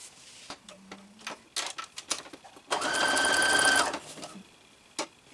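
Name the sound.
sewing machine stitching on a blouse yoke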